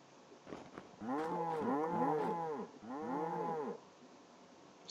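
Cows in the video game Minecraft (WorldCraft) give several long, drawn-out moos that overlap in two clear bursts, close and fairly loud, with no voices heard.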